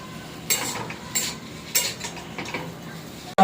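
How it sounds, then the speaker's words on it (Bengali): Chow mein stir-fried with garam masala in a pan, soft rhythmic scrapes and shuffles of the spatula repeating about every half second over a faint sizzle, close, with a sharp knock at the end and no talking. "গরম মশলা দিয়ে 2 মিনিট ভাজতে হবে।"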